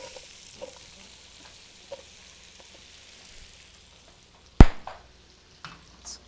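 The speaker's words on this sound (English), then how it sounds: "go ahead and saute our onions up just a little bit and add them to the braising pan" Onions go into a hot braising pan with a sudden loud sizzle that fades to quieter frying and a few stirring clacks, after soft background noise, with no speech.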